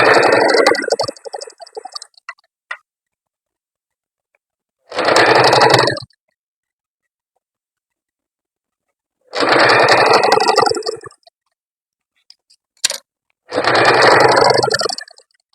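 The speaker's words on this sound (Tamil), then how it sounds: "மடிச்சுட்டு ஸ்ட்ரெயிட்டாக ஒரு தையல் போட்டுக்கோங்க." Sewing machine running straight stitches along a blouse seam: loud whirring bursts of one to two seconds each, separated by silent pauses, with a few faint clicks in between.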